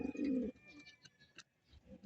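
Domestic pigeons coo in a loft holding young squabs about six days old; a loud, close, throaty coo opens, followed by softer murmuring coos and faint rustling.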